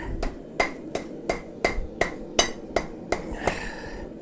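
Steel being hammered into a small spike shape on an anvil: ten evenly spaced, ringing metallic blows, loud and close, the last one trailing off with a longer ring.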